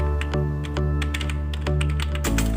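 Fingers tap a computer keyboard as a Python program is written, producing quick, uneven clicks close by over a steady low hum.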